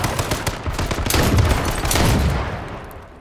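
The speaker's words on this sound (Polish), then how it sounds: "Strzela do mnie. O, do ciebie też strzela." Dense, continuous gunfire in the battle royale video game H1Z1, a sustained fusillade of overlapping shots that swells in the middle and tapers off toward the end, with no talk over it.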